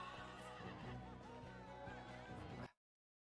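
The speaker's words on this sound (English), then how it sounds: "so that's him riding the horse." A horse neighs in the TV show Galavant, a whinny set into dense music and production sound before everything cuts to silence.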